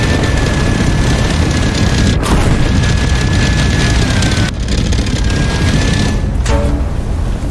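In a war simulation video game recreating the 73 Easting battle, Abrams and Iraqi tank cannons fire, with a few heavy booms breaking through continuous loud engine rumble and battle noise.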